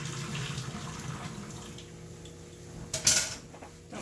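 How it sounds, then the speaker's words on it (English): Cooked pasta being lightly drained at a kitchen sink, water splashing and pouring out in a rushing stream, with a sharp clatter of pot or metal near the end; no talking. "I'm going to lightly drain my pasta, leaving a little bit of water in it."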